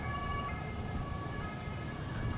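Emergency vehicle sirens wail outdoors as a steady sustained tone over continuous traffic rumble and wind noise, with no voices.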